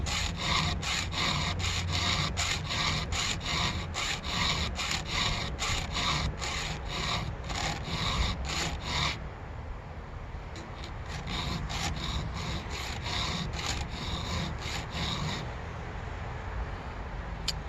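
Rapid, rhythmic rasping strokes of a hand file sharpening chainsaw chain teeth, close and steady in bursts, with a brief pause midway before the filing resumes at the same brisk pace.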